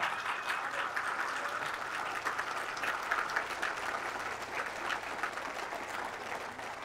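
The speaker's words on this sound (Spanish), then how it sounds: "Fuertes aplausos a nuestra Madre Santa." A church congregation at a Mass for the Solemnity of Our Lady of Guadalupe applauds steadily, a soft, distant wash of many clapping hands sustained without voices.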